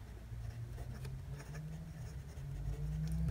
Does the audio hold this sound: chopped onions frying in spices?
no